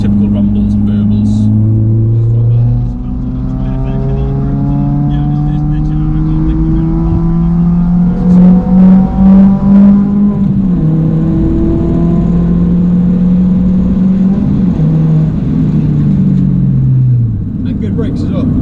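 A Fiat Panda 100HP engine rumbles and burbles under steady drive, with rising and falling revs through gear changes. It sits loud and close, with someone talking over it.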